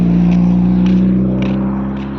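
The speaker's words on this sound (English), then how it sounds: "That car was way too loud" A loud car with a low-hanging exhaust rumbles past, a steady deep droning roar heard close and alone, slowly easing off at the end.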